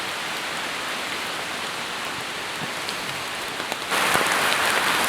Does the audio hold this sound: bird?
no